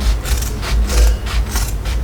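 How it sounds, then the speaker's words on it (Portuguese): Scissors snip diagonally through the corners of rigid crystal plastic and fabric for a sewn phone case, giving a close, loud series of rhythmic crunching cuts. "aqui embaixo vou cortar as pontinhas aqui na diagonal"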